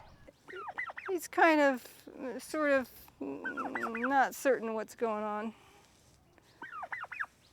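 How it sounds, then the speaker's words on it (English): A turkey makes a series of curious, uncertain calls nearby, warbling yelps and trilling gobble-like notes in bursts with short pauses, while someone speaks briefly among them. "Sort of have to learn how to talk turkey because every little sound they make has a meaning to them"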